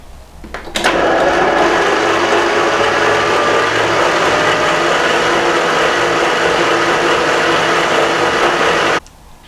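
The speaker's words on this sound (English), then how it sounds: "we're going to knead the dough then with the machine for 12 minutes." A stand mixer kneads dough for a Pullman sandwich loaf at a slightly higher than middle speed, starting up after a soft knock and then droning loudly and steadily with a whirring motor hum before cutting off near the end.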